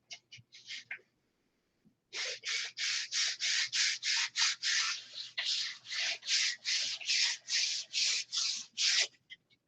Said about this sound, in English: we're going to sand the leading edge of that round, plus the trailing edge of the flap